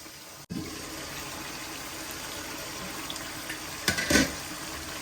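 Strained mash-lentil cooking water is poured into frying masala for a dhaba-style dal. A sudden splash and sizzle starts the quiet, steady hiss, and a second brief burst of pouring comes near the end.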